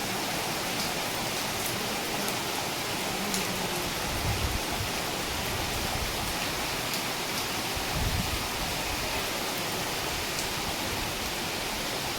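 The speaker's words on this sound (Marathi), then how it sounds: "मस्त पाऊस पडायला लागला" Steady rain falling, a dense, even hiss of water throughout with a couple of low thumps partway through.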